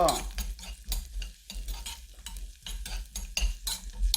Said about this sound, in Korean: 고추기름에다가 그 제가 파를 넣었어요.